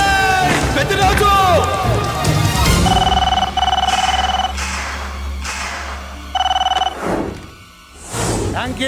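A telephone rings in short repeated bursts during the tense climax of an action film, cutting through a loud, dense soundtrack of dramatic music and crowd-like background noise.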